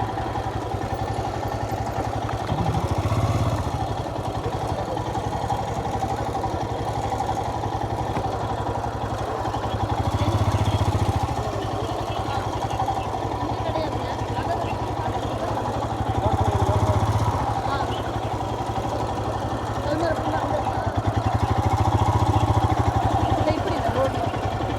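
A motorcycle rides past on an off-road trail, its engine a steady mid-pitched drone that swells several times as it nears and passes, while people talk over it.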